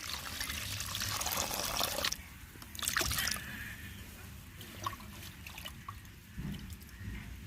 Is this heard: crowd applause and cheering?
no